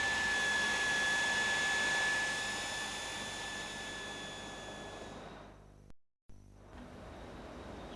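A power drill bores a 10mm hole through a piece of aluminium at about 1,800 rpm. A steady, close motor whine holds, then winds down and cuts out, followed by a quieter, fainter hum.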